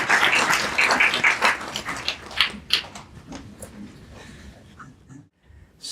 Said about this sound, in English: please join me in welcoming Dr. Kenneth Valpey with a warm round of appl